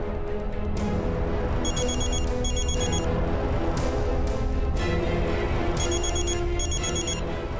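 A telephone rings on an outgoing call in a police drama, sounding as repeated double bursts of bright electronic ringing over a loud, steady music bed.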